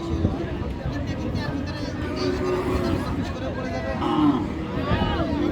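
Sahiwal crossbreed cattle at a busy rural cattle market, with cattle sounds and moos heard amid constant crowd chatter and babble from many people nearby.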